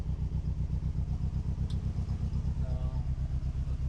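A Mitsubishi Galant VR-4 idling shortly after a cold startup, a steady low rhythmic engine pulse with even throb throughout, close and continuous, with faint brief sounds over it.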